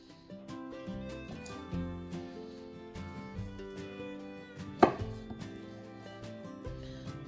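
A knife cuts cooked food into smaller bite-sized pieces for chicken noodle soup, with soft repeated chopping taps on a board and one sharper knock near the end, all set against quiet background music.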